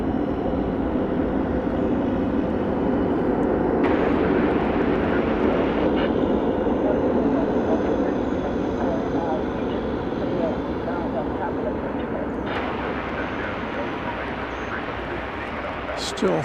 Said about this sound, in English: And that is a plane from the 90s, a 20th century plane